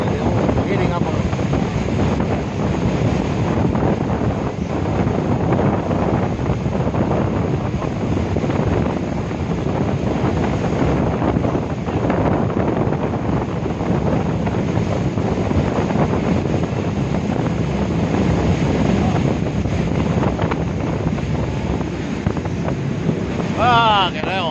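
A boat pounds across breaking waves on the Kaipara Harbour bar. Heavy wind buffeting and roaring water fill the whole stretch as a steady, loud rush, with any voices buried under it.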